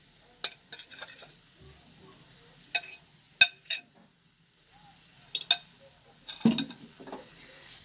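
A chicken and potato cutlet mixture is stirred in a pan over low flame, with scattered scraping and clinking strokes of a utensil against the pan over a faint sizzle, irregular and close.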